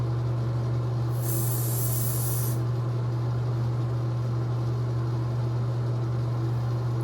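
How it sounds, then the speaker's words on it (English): A spray bottle mists onto a wig in one burst of hiss lasting about a second and a half, close to the mic, over a steady low electrical hum with no talking. "and you're gonna spray."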